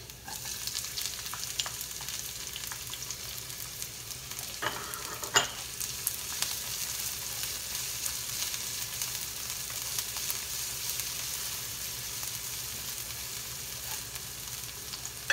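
Garlic and onion sautéing in a pan for pork and beef giniling, a steady close sizzle with brief stirring scrapes and clinks near the middle.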